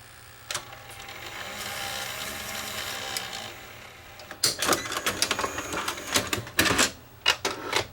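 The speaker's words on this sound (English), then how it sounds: "And you'll see the real hubs pull in for the small tape. Small tape loads. Small tape plays perfect." VCR loading and playing a small video cassette: a steady motor whir, then a run of sharp mechanical clicks and clunks as the hubs engage, close and fairly loud.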